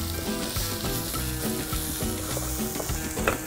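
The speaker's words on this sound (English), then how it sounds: "I like to toast my rice at this point" Cauliflower rice toasts in olive oil in a paella pan, a loud, even sizzle with bursts of stirring scraping through it.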